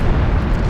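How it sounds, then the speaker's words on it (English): Torpedo hits detonate against warships in the naval combat game Ultimate Admiral Dreadnoughts, a dense, rumbling low boom that fills the whole moment at steady high loudness with no pause. "More torpedo hits."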